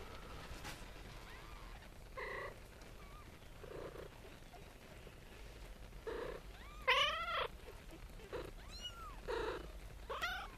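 Small kittens meow indoors, several short high mewing cries scattered irregularly across the stretch, some rising and falling in pitch, over a soft background hiss, with someone speaking quietly between them.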